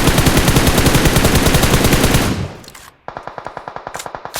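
Rapid automatic gunfire in the PUBG video game, a loud sustained burst of shots that cuts off, then resumes as a quicker, sharper series of individual shots.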